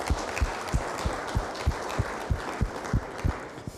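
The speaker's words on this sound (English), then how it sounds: "Give him a round of applause." An audience at a Safe Streets community meeting claps in a brief round of applause, a modest room's worth of hands, fairly near and a little sparse, with distinct claps standing out.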